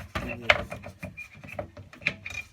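A hacksaw cuts through the tube of a paint roller in several short, uneven rasping strokes, close by.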